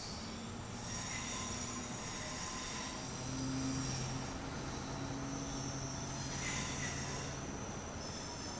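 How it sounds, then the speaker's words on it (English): Avanti West Coast Pendolino train at London Euston station, with steady rolling rumble and high metallic wheel squeal sustained throughout, swelling slightly twice as carriages pass nearby. "So here it is, ladies and gentlemen, the Pendolino Avanti West Coast."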